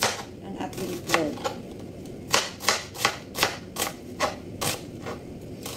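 Onion chopped on a board for cooking eggs: about eight crisp, evenly spaced knife strikes in a quick rhythm, close up, following a few lighter taps.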